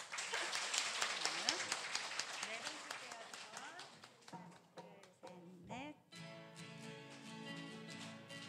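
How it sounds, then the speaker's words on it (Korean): Audience applause at a 2022 residents' general meeting in Suri-dong, a dense burst of many hands clapping for several seconds that thins out before music and singing take over. "다시 한번 박수 쳐주세요"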